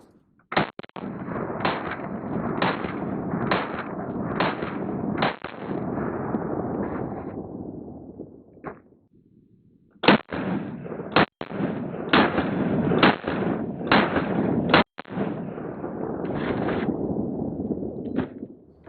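Shots from an AP5 fired at a body armor backpack insert crack out as sharp, loud reports in two rapid strings, each shot followed by a rumbling echo, with a short pause between the volleys.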